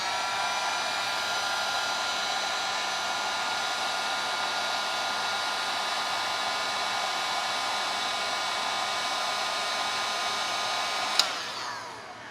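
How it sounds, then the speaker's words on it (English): A heat gun blows hot air onto a temperature sensor of a small LiFePO4 battery, a steady loud whooshing drone held for about eleven seconds before a click and a quick wind-down. "Now we're using the heat gun and testing one temperature sensor at a time"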